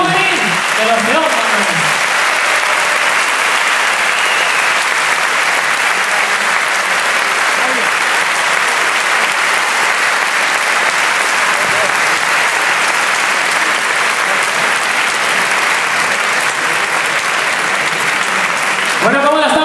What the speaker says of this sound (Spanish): ¡Qué bonito aplauso para todos los juveniles de los Leones!